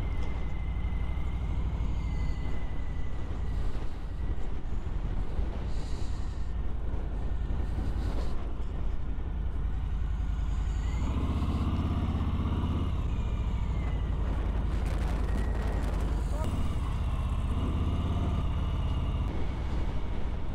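A 2019 Harley-Davidson Street Bob motorcycle out on a test ride, its engine rumbling steadily with wind noise throughout, rising and easing with throttle changes, no talk.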